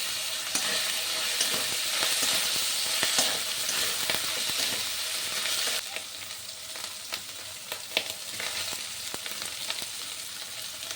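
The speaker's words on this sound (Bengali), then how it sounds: "টমেটো কুচি দিয়ে আরও কিছুক্ষণ ভেজে নিচ্ছি।" Chopped tomato frying in a pan for a banana flower curry, a steady broadband sizzle with intermittent stirring clicks and scrapes, continuous and close, slightly quieter in the second half.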